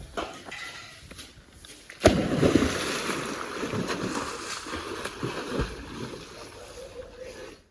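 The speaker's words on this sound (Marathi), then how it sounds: "मी उडी मारलेली. आता मी वापस पाण्यात जायत आहे बघा" A person's jump into a swimming pool sends up a sudden loud splash, followed by churning, sloshing water that gradually settles.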